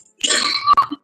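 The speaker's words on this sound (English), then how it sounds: "Excuse my cough." A single harsh cough, close and loud, lasting under a second.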